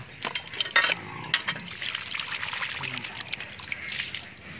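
Water pours and trickles steadily for several seconds into a chicken water container, with a few light clinks near the start and a faint voice in the background.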